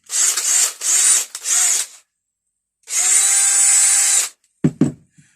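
A Makita cordless drill with repaired brushes whirs loudly in three short bursts, then a longer run after a pause, followed by a couple of brief clunks.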